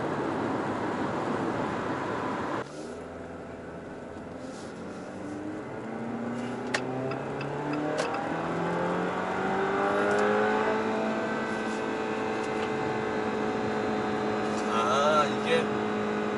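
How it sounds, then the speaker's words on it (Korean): A Jeep All New Compass pulls hard at highway speed, its engine note climbing through rising gear sweeps with wind and road roar close inside the cabin. "자, 고속주행을 좀 한번 해보고요."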